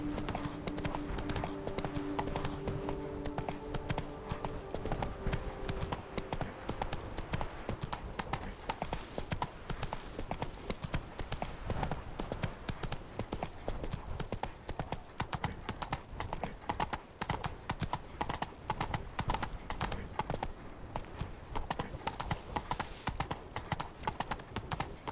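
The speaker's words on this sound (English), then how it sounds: "Come on, Roach" Horse hooves clip-clop in a steady walking rhythm while riding in The Witcher 3, the regular beats running throughout amid faint game ambience and a little talk early on.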